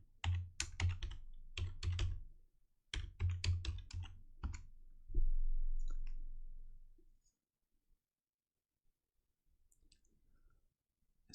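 Quick bursts of typing on a computer keyboard, close and crisp, come in three clustered runs of clicks with a heavier key thud, then fade into near silence.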